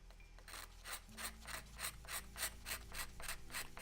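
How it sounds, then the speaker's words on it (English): Small note pneumatics are scraped by hand in a workshop, giving a steady series of rasping strokes about twice a second, close and even, over a low constant hum with no speech. "I am scraping these little note pneumatics"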